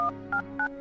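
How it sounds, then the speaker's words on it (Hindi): A phone number is dialed on a keypad: three short, clear dual-tone beeps in quick succession over a steady low hum. "बिना उसने एक भी पल गंवाए अपना फोन उठाया और सुधा का नंबर डायल कर दिया"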